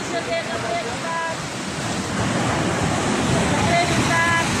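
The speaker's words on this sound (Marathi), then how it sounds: "बघ घरात पाणी शिरते" Seawater surges into a house in a fishing village at Pajpandhari, a steady broad rushing wash that swells louder toward the end, with faint voices in the background.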